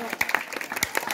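A crowd at a village gathering in Punjab for the Ambedkar birth anniversary, clapping loudly in a burst of uneven, sharp claps, with some voices mixed into the noise.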